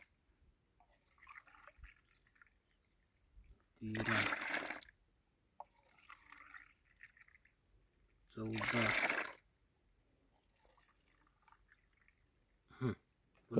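Liquid pesticide and water pour into a farm sprayer pump tank for spraying a Kabuli chickpea crop, heard as two separate gushing pours with quieter dribbles and handling noises in between.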